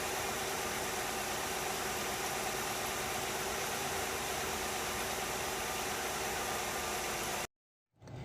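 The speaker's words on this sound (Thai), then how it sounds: "เครื่องยนต์เดินนิ่งเรียบนะครับ" A 2002 Nissan Cefiro A33 2.0 automatic engine idles with a steady, even hum for several seconds, then cuts off abruptly into silence.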